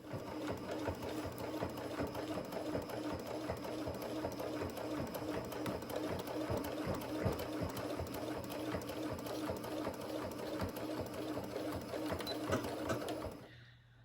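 A sewing machine runs continuously for about thirteen seconds, stitching a quarter-inch seam with a steady, fast mechanical chatter up close, then stops abruptly at the end.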